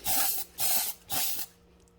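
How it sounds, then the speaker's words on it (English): A spray paint can hisses in three short, even bursts while coating a craft centerpiece, close and loud, each blast about half a second long with brief pauses between them. "I make sure my car is behind me and I'm spraying towards the freezers"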